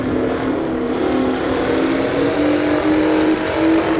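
A modernized 1960s Formula race car engine in Assetto Corsa holds a loud, close, steady high-revving whine that climbs slightly in pitch as the car accelerates around a circuit.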